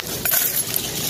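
Keys clink and jingle in a brief, close metallic burst during a house inspection in Antipolo, San Jose, with a steady background hiss.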